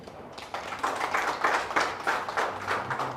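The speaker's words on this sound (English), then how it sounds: "The Eritrean community, can you please kindly clap for yourselves?" Members of the Eritrean community clap at a blood donation drive in Uganda, a modest burst of applause from a small group that swells briefly and stays fairly close and clear.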